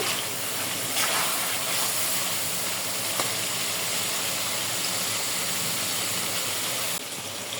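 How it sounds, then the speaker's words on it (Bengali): Hilsa fish sautéing with spices in hot oil and no added water gives off a steady, loud sizzle and hiss with little change throughout, with no talk over it. "মাছগুলো দুই তিন মিনিট কষাই নেব মশলার সাথে জল ছাড়াই কষাইব"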